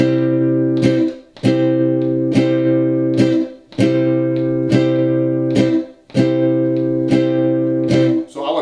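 Strummed guitar chords repeat in a steady syncopated Charleston rhythm, a long ringing chord followed by quick accents, played up close for several cycles.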